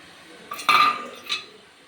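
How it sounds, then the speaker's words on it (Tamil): Idli plates being set into a steamer: a bright metallic clink and rattle as a plate is placed, followed by a softer second clank, then quiet. "இப்போ இட்லி தட்டை வச்சு இந்த தட்டை வச்சு இது மேலே வச்சிடலாம்"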